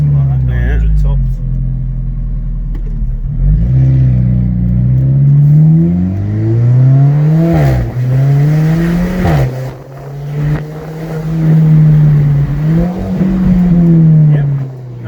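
A Fiat Coupe engine revs up and down repeatedly while driving, a loud rising and falling whine heard from inside the car, with people talking over it.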